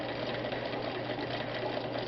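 A vintage Viking 6690 sewing machine running a zigzag stitch at 2.5 stitch length, a steady close whirring motor hum with a fast even mechanical patter throughout.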